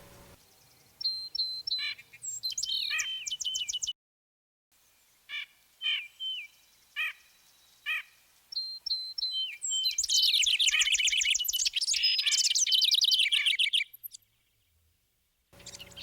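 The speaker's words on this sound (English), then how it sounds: "House wrens come back." House wrens chirping in a backyard, bright bubbling trills and rapid chatter in short phrases separated by quiet gaps, swelling into a long dense burst of song near the close.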